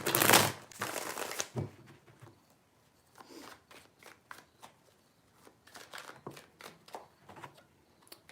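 Tarot cards are shuffled by hand, opening with two loud riffling bursts followed by a quieter run of irregular soft slaps and flicks, close and with no talking.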